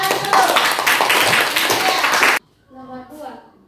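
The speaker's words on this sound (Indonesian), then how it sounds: "tepuk tangan dulu" Classroom applause from students in a group discussion lesson, a dense burst of hand clapping lasting a couple of seconds before stopping abruptly, followed by a quieter stretch with a voice.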